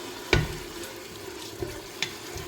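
Cubes of beef shank fry with garlic in a pot as a utensil stirs them: a soft steady sizzle broken by a sharp scrape or knock and a few quieter taps, with no talking.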